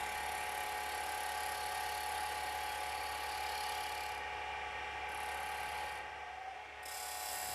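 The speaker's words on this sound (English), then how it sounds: "Shear cut the outside of the complete lidded box." Wood lathe shear-cutting the outside of a completed lidded wooden box held by the tailstock, a steady close whirring scrape with fine ratcheting texture running unbroken throughout, no voices.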